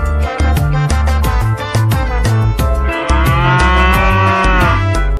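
Two cows moo in Jurassic World Evolution 2, a drawn-out, wavering low call rising over loud, rhythmic backing music with a pounding beat.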